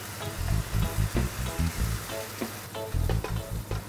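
Chopped tomato sizzles and spits in hot oil with chilli powder for a tomato chutney, a steady close crackle that swells in short rhythmic bursts as it is stirred.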